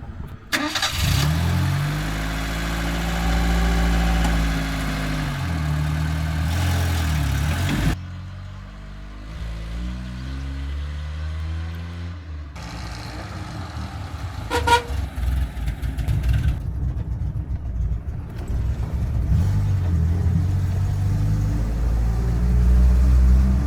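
A campervan's engine runs as the van sets off on a test drive after repairs, a steady mid-pitched hum that shifts in tone partway through, with road rumble beneath and no voices.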